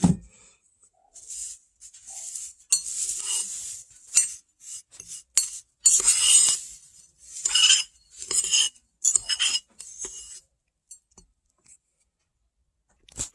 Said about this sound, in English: I'm going to want to stir that in as well.